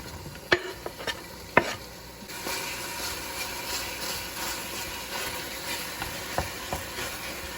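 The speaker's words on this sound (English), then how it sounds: "I'm gonna fry that up till it's nice and brown" Food sizzles steadily in a frying pan with a constant hiss, broken by a few sharp clicks and scrapes of a utensil stirring, close and moderately loud.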